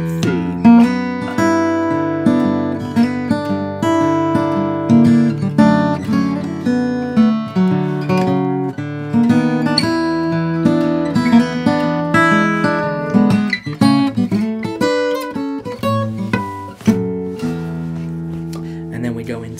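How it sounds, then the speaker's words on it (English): Fingerstyle guitar plays the B section of a song, mixing plucked bass notes and chords in a steady, upbeat rhythm. The guitar is close and clear and plays alone for the whole passage. "The B section sounds like this."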